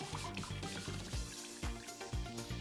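Water draining off freshly curdled chhena (milk curdled with vinegar), a steady broadband trickle and drip running continuously throughout, fairly loud and close, with no talking.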